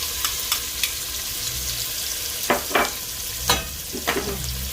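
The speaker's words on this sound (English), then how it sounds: "in the same pan, put in really finely diced onion" Finely diced onion sizzling in a frying pan, a close steady hiss broken by several sharp stirring scrapes and clatters, with no talking.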